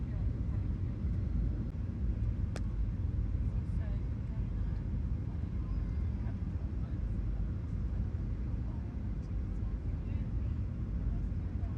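A steady low cabin rumble fills a Virgin Australia airliner descending low toward landing at Sydney's Kingsford Smith airport, constant and broadband throughout, with no voices on top.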